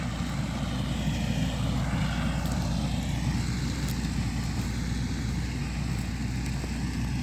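A tractor works a damp field sowing winter wheat, its engine giving a loud, steady, unbroken drone throughout.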